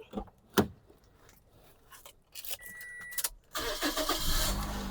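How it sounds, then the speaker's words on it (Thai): A 2009 Toyota Altis 1.8E car engine is cranked and starts, with a few clicks and a brief whir before it catches and settles into a steady, close, loud idle. "สตาร์ทที่จะติดครับ"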